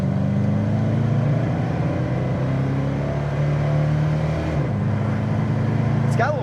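A 1970 Mustang Coupe with a shift kit cruises at highway speed, a steady loud engine drone and road rumble with a brief gear change, while someone talks over it.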